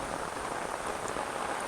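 Rain falls steadily near a rural house and rice paddy, making an even, dense patter that fills the whole short stretch with no voices.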